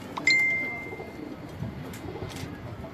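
High-flying pigeons coo softly and briefly, with a thin whistle-like note near the start, over a low, steady outdoor background.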